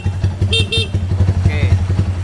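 A Kawasaki Mega Pro motorcycle horn gives two short honks, then a fainter third, over the steady idle chug of its engine close by.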